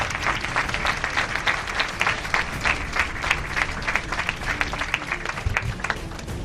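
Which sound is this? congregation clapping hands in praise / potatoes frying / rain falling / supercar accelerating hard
congregation clapping hands in praise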